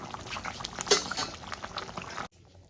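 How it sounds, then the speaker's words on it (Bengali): Katla fish curry bubbles and simmers in a pan, a close, steady wet crackle with small popping spikes that cuts off abruptly near the end, leaving a faint quiet hum. "আমি একটু ফুটিয়ে নেব ভালো করে।"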